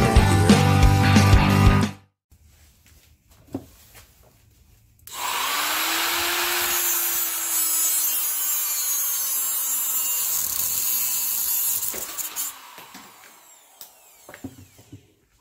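A Motorcraft FL-500S oil filter is cut open in a garage: after a short burst of noise and a pause, a loud, steady power-tool whine grinds for about seven seconds, then winds down.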